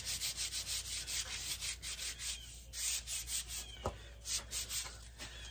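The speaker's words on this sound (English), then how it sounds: "But this is a pretty rough sandpaper. So we're going to somewhat smooth it up." Rough sandpaper rubs back and forth on a wooden ramrod for a flintlock rifle, making a quick, rhythmic rasping stroke about every half second, close and fairly quiet, with no talking.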